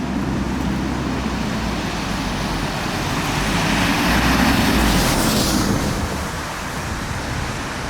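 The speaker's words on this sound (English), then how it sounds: "Watch these cars go past. Oh, a bus, lovely." Cars and a bus roll past on Tower Bridge road in London, a steady broadband roar of nearby traffic that swells around the middle as a heavier vehicle goes by, then eases slightly without fading away.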